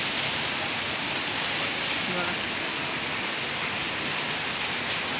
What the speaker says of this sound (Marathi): लईच पाऊस डेंजर आहे